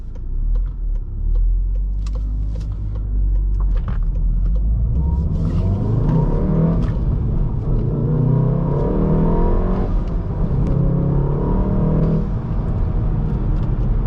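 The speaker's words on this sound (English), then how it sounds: "I feel very confident blipping the throttle." A 2019 Volkswagen Golf R with a six-speed manual gearbox drones steadily from inside the cabin, its engine note rising and falling through several throttle blips and revs over a low road rumble.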